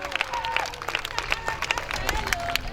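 Crowd at an evangelism campaign gathering in Lomé applauding and cheering, a dense continuous wash of clapping with scattered shouts and voices mixed in, sustained and fairly loud throughout.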